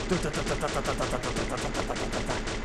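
Rapid sustained bursts from an M60 machine gun in the video game Free Fire, a fast even rhythm of sharp shots repeating for nearly three seconds, close and loud with no pause.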